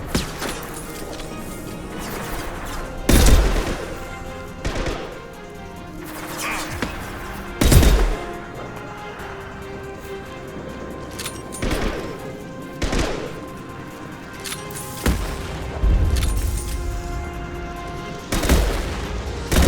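Rifle gunfire in the video game Mass Effect 2 rings out as sharp bursts repeating every few seconds over a low background hum, with brief game voices in between.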